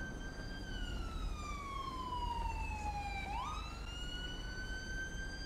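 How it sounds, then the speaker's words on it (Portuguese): A police car siren in the game GTA 5 wails in a slow falling sweep, then snaps back up and climbs again, steady and clear over a low background rumble with no talking. "Viatura chegou aí."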